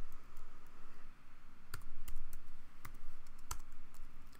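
Typing an IP address on a computer keyboard: a sparse run of distinct key clicks, several irregular taps close up and fairly quiet, with no talk.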